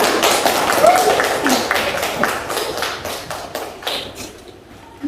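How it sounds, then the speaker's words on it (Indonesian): Students in a classroom clap for a group that has just presented, a loud, close burst of hand claps that thins and fades toward the end. "Oke, tepuk tangan untuk kelompok 4."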